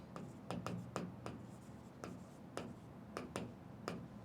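A pen writing numbers on paper, a run of quick, faint, close scratching strokes and taps at an uneven rhythm, with no talk over them.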